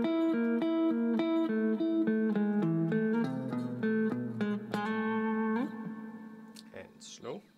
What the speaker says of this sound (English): I'm just gonna play through it and then we'll break it down afterwards